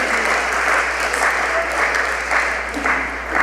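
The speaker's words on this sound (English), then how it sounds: "So let's give him a round of applause." An audience at a school graduation breakfast applauds steadily, a dense, even wash of many hands clapping throughout the room with no break.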